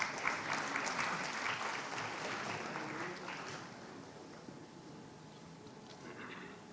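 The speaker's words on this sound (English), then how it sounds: "Let's welcome him with a round of applause." Audience applause welcoming a vice chancellor at a university literary festival ceremony: sustained clapping from a large crowd, loud at first, then thinning and fading toward the end.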